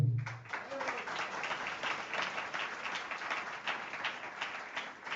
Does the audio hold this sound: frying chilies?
no